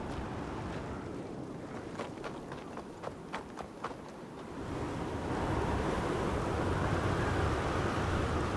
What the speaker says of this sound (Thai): เราต้องวิ่งหลบลมนะ ไม่งั้นจะโดนลมพัดออกมา